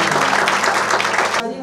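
A church congregation at a Sunday service breaks into loud, dense applause that fills the space, then cuts off abruptly near the end.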